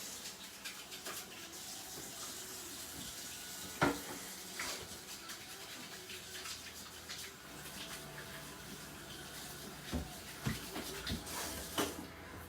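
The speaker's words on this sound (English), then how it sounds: "Wash my hands real quick." Tap water runs into a kitchen sink as hands are washed between steak prep steps, a soft steady splash with a few louder clunks and splatters, fairly quiet and with no talking.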